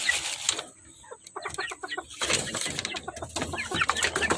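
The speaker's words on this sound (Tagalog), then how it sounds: "ang ating red chick na Dompo IG" A red chick clucks in short bursts close by, with scattered wing flaps and other fowl sounds around it.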